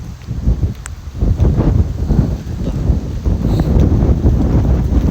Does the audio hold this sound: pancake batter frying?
no